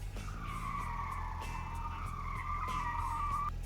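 Tires squeal in a long continuous drift skid from a car in the video game Checkpoint Drifter, its pitch wavering over a constant low engine drone.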